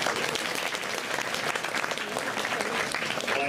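An audience at Turtle Talk in Tokyo DisneySea claps steadily and densely throughout, a continuous wash of applause at moderate volume.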